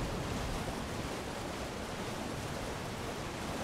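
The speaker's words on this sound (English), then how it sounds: "That waterfall, yeah." A waterfall in the video game Elden Ring roars as a steady, dense wash of broadband rushing water, constant and enveloping with no pauses.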